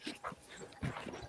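A dog makes short whimpering and yipping sounds on a New York street, several brief faint vocalizations close together.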